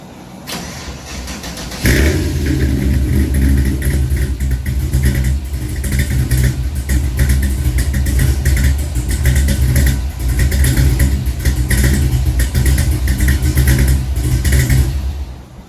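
An LS V8 engine in a Chevy II gasser with Holley Terminator X injection cranks and catches, then runs with a lumpy, throaty idle punctuated by repeated sharp revs, loud and close.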